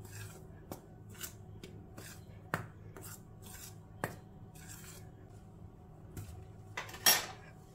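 A spoon works semolina, flour and hot oil together in a bowl for modak dough, giving quiet, scattered clinks and scrapes against the bowl at an uneven rhythm.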